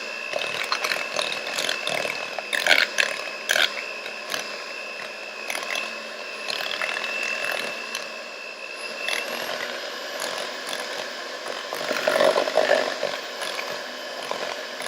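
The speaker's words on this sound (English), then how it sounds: "You will not turn the mixer on until it's inside of the bowl." Electric mixer beating snickerdoodle dough in a bowl, a continuous close whirring hum with scraping and rattling against the bowl, rising briefly louder near the end.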